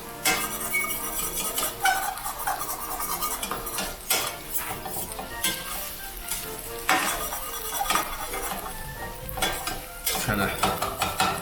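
Onions sizzle steadily in a hot oily pan as balsamic vinegar deglazes it, with continuous spattering, scraping and stirring of utensils against the pan and a few brief words spoken over it.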